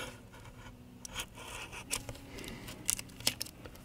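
A scalpel slices adhesive beneath an iPad battery during a repair, giving soft, close scraping and scratching strokes with a few sharper ticks, quiet and with no talking.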